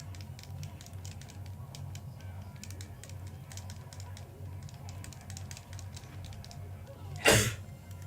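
A single sharp sneeze bursts out near the end, loud and close, over a low steady background hum with faint clicking.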